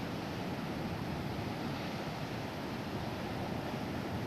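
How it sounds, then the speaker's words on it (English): Large ocean waves breaking on a Hawaii beach, a steady broadband roar of surf with wind, continuous and even throughout, no voices. "Look how big these waves are. Here comes the big wave."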